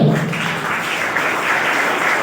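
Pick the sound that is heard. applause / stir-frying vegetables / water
applause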